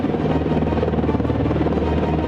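An Apache AH-64E attack helicopter flies with a loud, steady rotor drone and engine buzz, continuous and unbroken throughout.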